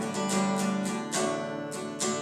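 A guitar strumming pattern played across a few beginner chords, with steady rhythmic strokes and fresh strums marking each change, clear and moderately loud with no voices.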